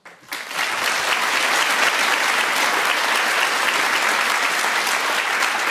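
A television studio audience bursts into sustained, dense applause that swells within the first half second and continues loud and steady.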